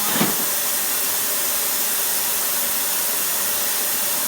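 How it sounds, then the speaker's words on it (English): Steady loud hiss of steam venting from a pressure canner filled with pinto beans, continuous and unbroken from start to finish with no talking. "As you can hear, we are definitely steaming."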